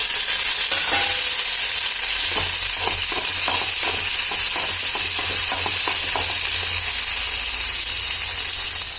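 A loud, close tempering of ginger, green chillies, onions, mustard seeds, peanuts and dried red chillies sizzling hard in hot oil, with a run of sharp spatula scrapes and stirs over a constant hissing fry.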